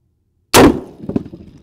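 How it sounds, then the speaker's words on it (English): A Raufoss .50 BMG round fired into a 9-inch glass ball gives one sudden loud crack with a burst of shattering glass, then scattered clinking fragments settling over the next second. "I'm gonna load the Raufoss and I'll be shooting through this glory hole right into our glass ball"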